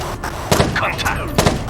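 Gunfire during a tactical shooter firefight, two sharp bursts of shots about a second apart over a noisy background of combat sound and shouted voices.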